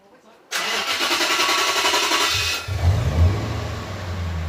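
A Nissan D22 with a VK45DE V8 cranks briefly and catches after a starter motor repair, bursting into a loud rev that settles into a deep, rumbling idle close by.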